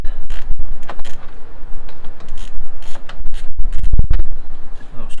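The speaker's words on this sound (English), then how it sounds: "I'm going to have to use ratchet on this side" Ratchet wrench loosening a water pump bolt on a 2015 HEMI engine, with a busy run of metallic clicks and scraping close by, steady and fairly loud, plus knocks and rattles of tools around the engine bay.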